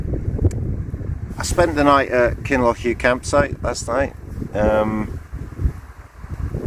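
Someone talks outdoors at a campsite on a windy morning, with steady low wind rumble buffeting the microphone beneath and between his words throughout.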